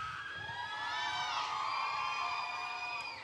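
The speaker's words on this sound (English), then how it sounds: "y'all just screaming out of joy" Concert crowd of fans at a K-pop convention live talk screaming and cheering, a sustained wall of high-pitched shrieks and whoops swelling loud for several seconds before easing slightly, no clear speech.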